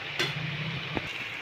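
Potato pieces tipped into onions frying in oil, a low continuous sizzle with a thump as they drop in and a brief scrape near the end, quiet and close, no voices.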